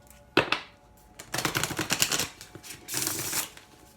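A tarot deck being shuffled before a single card is drawn. Close, crisp riffling bursts and slaps of cards come in a few short runs, with no talking.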